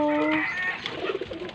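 A pigeon coos close by in low, rolling calls, a short series of soft throaty notes with faint background noise.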